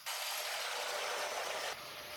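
An angle grinder switched on through an RCCB runs with a loud, steady rushing whir for under two seconds, then cuts off sharply to a quieter background.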